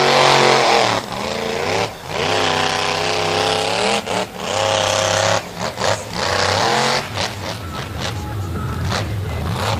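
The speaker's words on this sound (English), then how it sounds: "The silk is just so loose, the front tires will not get a hold of it." Monster truck at a swamp show in Naples, front tires spinning and failing to grip loose silt as the engine roars and revs loudly and continuously, with shifts in pitch throughout.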